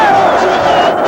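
Corinthians supporters celebrating a cup final win in the stadium, a loud, sustained roar of crowd cheering and chanting filling the whole moment.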